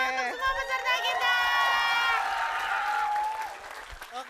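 A contest crowd claps and cheers for the participants, with loud raised voices and shouts over the applause, fading after a few seconds.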